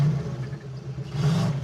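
A turbocharged Mazdarati engine revving as throttle comes back, a loud close mid-pitched rise and fall over about two seconds, with a dip before climbing again.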